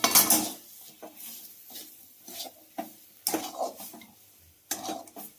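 Rice flour dough being mixed in a pan, with intermittent clinks and scrapes of a utensil against metal in irregular bursts, fairly close and quiet between strokes.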